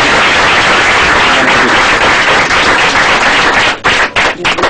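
A studio audience gives loud, steady applause at the close of a radio call-in program, a dense continuous wash of clapping that thins briefly near the end.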